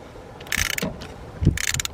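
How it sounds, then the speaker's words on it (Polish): A ratchet wrench works loose the second spark plug from a car engine, giving two short bursts of rapid metallic clicking about a second apart, close up over faint background hiss, with no talking. "No i o, wykręca się druga świeca."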